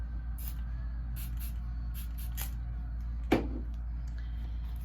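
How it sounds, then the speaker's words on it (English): A single short spritz of Smashbox priming water sprays onto a flat makeup brush, a quick hiss standing out against a quiet room with faint ticking. "I'm gonna grab my Smashbox priming water and just spray it."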